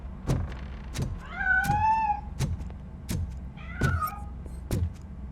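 A cat escaping in a Robocop video game gives a few short wavering meows among a series of sharp repeated thumps and clicks, set over a low steady hum.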